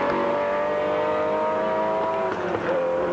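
Porsche Carrera race car on a classic-rally circuit, its engine holding a loud, steady high whine throughout with a brief dip near the end, close and alone.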